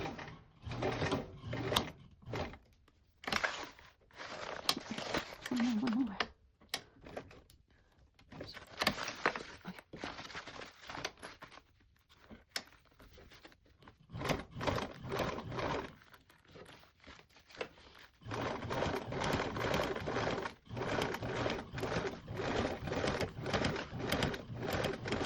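Sewing machine stitching a VentureTote bag: bursts of rapid mechanical clatter alternate with pauses, then a long steady run of stitching near the end.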